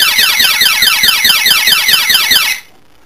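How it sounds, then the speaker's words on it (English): A loud burglar alarm box blares with a fast, pulsing electronic sweep repeating rapidly for a couple of seconds before abruptly stopping. "And this is the box alarm."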